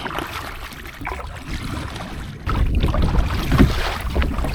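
A kayak is paddled on open water during a fishing trip, with steady splashing and water noise, some wind buffeting, and strokes growing louder and closer partway through.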